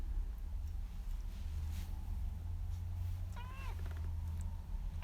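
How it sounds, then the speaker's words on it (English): A house cat gives one clear meow partway through, moderately close, over a steady low hum in an indoor room where watercolour skies were being painted. "Oh, it's the cat."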